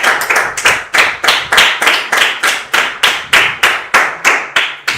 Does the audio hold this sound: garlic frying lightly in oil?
no